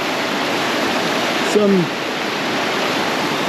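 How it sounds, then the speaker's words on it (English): Small waterfall in Jamaica rushing steadily as a broad, close wash of falling water, with a brief voice cutting in over it for a moment. "let's go and check how powerful this little fall is"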